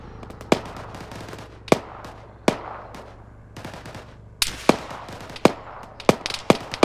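Arma 3 combat gunfire: sharp single shots and short bursts crack at irregular intervals, some near and loud, others more distant, over a low rumbling background with no voices.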